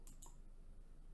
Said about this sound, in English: So click on add.